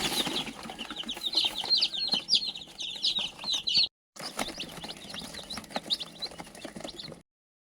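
Young village chicks in a brooder chirp in quick high peeps, moderately close, with brief shuffling and wing flutters mixed in and a short gap midway.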